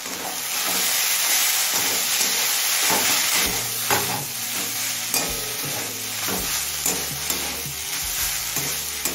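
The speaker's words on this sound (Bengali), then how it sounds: "ঢাকা খুলে চচ্চড়িতে একটু নাড়াচাড়া করে নিয়েছি।" Drumstick flower chorchori being stirred in a pan, a steady close sizzle and frying hiss under repeated scraping strokes of the spoon, with no voices.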